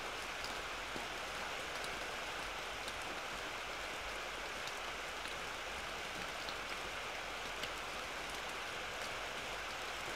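Steady rainfall from the game Neko to Watashi to Ame no Ie, a soft, even hiss of rain on surfaces with occasional faint droplet ticks, constant and unbroken.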